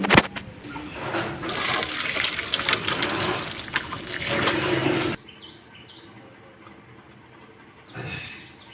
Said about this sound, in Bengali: তো মোচাটা আমাদের সেদ্ধ হয়ে গেছে, এবার মোচা থেকে জলটা ছড়িয়ে নেব।